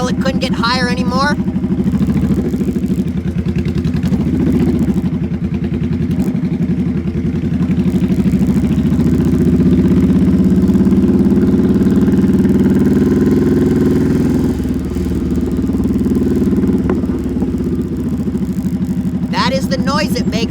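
A motorcycle engine revs steadily higher toward the point of needing a gear shift, a loud sustained mid-pitched drone that rises and holds for most of the stretch, with brief speech at the start and end.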